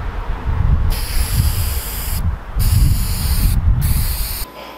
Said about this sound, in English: after dealing with spray painting in the wind